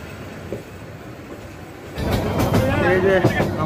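Express train on the Dhaka to Chittagong line near Akhaura, rumbling on its rails from inside a carriage: a steady low roar that swells louder about halfway through, with rattling clatter and faint wheel squeal.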